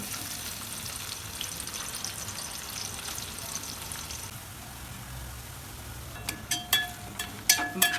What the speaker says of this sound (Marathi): कांदा मस्त भाजून निघलाय